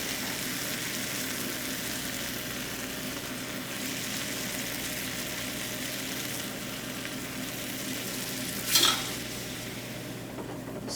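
A spatula dragged through risotto rice simmering in a pan, a steady close sizzle and soft wet stirring throughout with one brief scrape or clink near the end.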